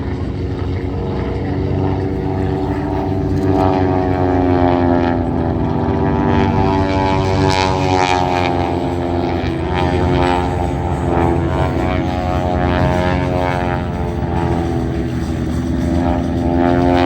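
Fokker S11 propeller trainer flying at an air show, a loud continuous droning engine with wavering pitch as it passes, steady throughout with no talk over it.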